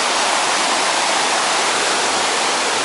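A mountain stream in Snowdonia flows loudly in a steady, dense rush of water, heard up close with no other sounds.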